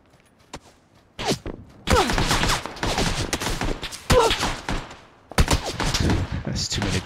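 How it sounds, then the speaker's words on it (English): Several players fire on one target in the battle royale game PUBG: bursts of close, loud gunfire, some rapid and automatic, come in clusters separated by brief lulls, with faint talk underneath. "there's like three people shooting at me"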